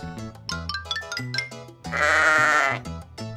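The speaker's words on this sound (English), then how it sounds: "Sheep." A loud, wavering sheep bleat rises over light plinking music, holding for nearly a second before the tune carries on.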